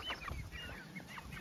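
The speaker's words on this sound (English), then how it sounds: "We have 15 chickens and 9 turkeys." Chickens and turkeys cluck and chatter continuously at close range while waiting to be fed, with a steady, busy flock murmur and no speech.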